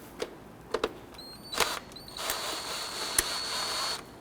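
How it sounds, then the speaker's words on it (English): A 10 mm hose clamp on the air intake tube of a 2006-2014 Honda Ridgeline is loosened with a ratchet: a few sharp clicks, then a short run of close, quiet mechanical ratcheting. No one speaks. "On our air intake tube, we want to go ahead and loosen up this clamp right here."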